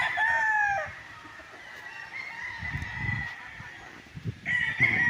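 Chickens on a farm lot in Pagsanjan, Laguna, with a rooster crowing at the start and again near the end and scattered low clucking between, moderately close against quiet surroundings.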